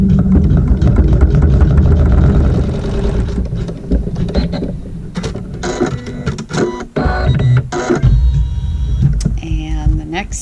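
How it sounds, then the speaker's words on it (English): A sewing machine stitches a seam through fabric, its motor whirring in steady loud bursts that stop and start, with a person talking over parts of it. "we're going to sew a seam"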